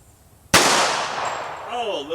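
A single sharp pistol shot fired at a penny target from 5 yards, loud and close, with a ringing decay afterward and a voice starting to speak at the end.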